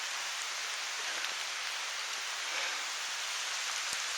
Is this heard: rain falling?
yes